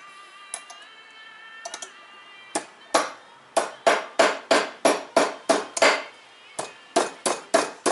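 Metal hammer blows straighten a slightly bent wire on a Corvair wire wheel hubcap: about fifteen sharp, close, ringing strikes in a quick steady rhythm, preceded by a few lighter taps.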